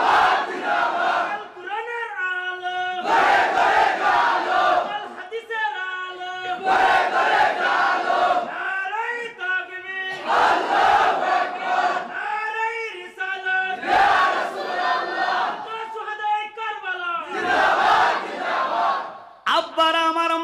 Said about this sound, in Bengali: তাকবীর এই আওয়াজে মানি না